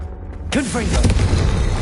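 A spell blast goes off in Hogwarts Legacy on PS5, a sudden booming burst with a swirling magical whoosh that holds loud and dense for over a second, with a quiet lull before it and voices close by.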